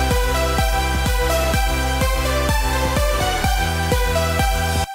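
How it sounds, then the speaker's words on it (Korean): A supersaw synth lead line rides over a full electronic dance track with a steady pulsing kick and bass, the bright stacked-saw melody loud and continuous for about five seconds before cutting off abruptly at the end. "요거를 이제 슈퍼소울 사운드를 이용해서 리드를 하나 구성을 해주시고요"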